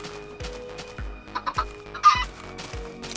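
Chickens clucking in Minecraft PE, a run of short repeated clucks and squawks with several louder calls near the middle, clear and close with no talk.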